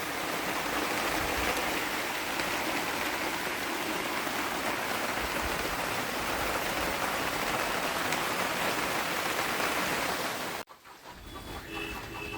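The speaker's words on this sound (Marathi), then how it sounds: "पावसाला पण सुरुवात झाली आता इकडे." Steady, dense rain pours down with a constant hiss, then cuts off abruptly near the end, leaving a quieter, softer patter.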